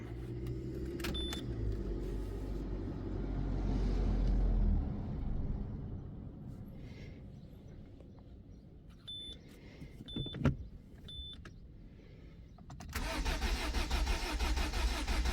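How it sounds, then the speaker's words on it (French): A Citroën C3 1.4 HDi with a key and BSM fault cranks for several seconds without catching, then drops to quiet clicks and relay ticks before a loud fan-like whir rises at the end. "on va voir si la voiture elle démarre ou pas."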